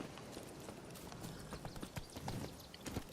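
Horse hooves clip-clopping on the ground in The Witcher 3 video game, a quick steady rhythm of soft thuds running throughout, moderately near with no speech.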